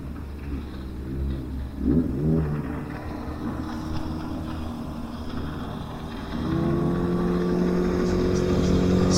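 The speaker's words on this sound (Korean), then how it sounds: "고무 보트 한 대가 열심히 지금 오고 있습니다." An inflatable motorboat's engine drones across Cultus Lake, growing louder and steadier as it approaches at speed, with wind buffeting the microphone.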